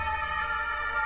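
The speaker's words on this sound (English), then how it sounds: "And not just any sirens." A video game siren holds a steady, loud, layered electronic wail for a moment, with a low rumble underneath and no voices.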